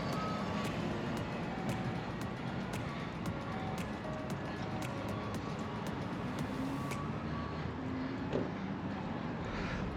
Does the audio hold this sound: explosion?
no